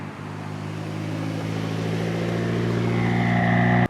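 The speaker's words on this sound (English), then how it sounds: "It definitely takes that turbo a little bit of time to build up boost," A turbocharged 2014 Mitsubishi Lancer Evo GSR, tuned to about 500 wheel horsepower, accelerates hard, its engine drone climbing steadily in pitch and loudness as boost builds, close and continuous with no talking.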